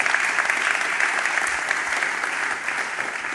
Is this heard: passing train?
no